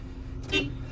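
A single short car horn toot from a JAC X6, sounded once and fairly close, over a low steady background hum.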